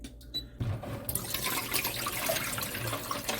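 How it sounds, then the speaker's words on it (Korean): A liter of water poured into a pot for clam and seaweed soup, a brief clatter and then a steady rushing splash of running water that continues to the end. "물 1리터 넣어주시고요."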